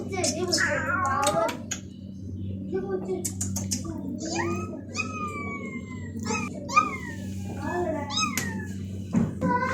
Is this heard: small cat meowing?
yes